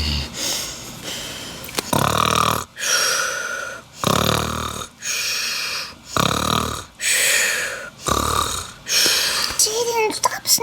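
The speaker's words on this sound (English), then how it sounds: "stop snoring." Loud, heavy snoring at a camping sleepover repeats in a steady rhythm of about six long rasping breaths, close and dominant.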